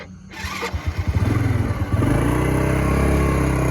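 A restored 2002 Honda Legenda 2 motorcycle engine cranks with rapid chugging pulses, catches, and settles into a steady, close idle rumble.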